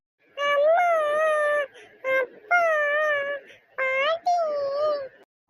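A small child cries out in repeated loud, wailing bursts, four or five drawn-out sobbing cries with short breaks between them, close and unaccompanied.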